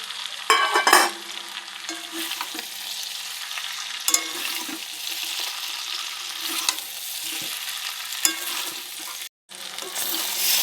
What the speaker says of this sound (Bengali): আলু দিয়ে কিছুক্ষণ কষিয়ে দিলাম। এবার দিয়ে দেবো ভেজে রাখা সয়াবিন।